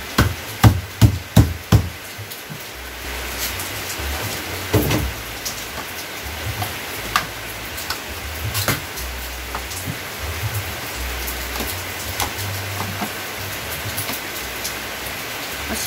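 Steady rain falls in a continuous hiss, with a few loud knocks at the start and scattered drips and taps on a surface throughout.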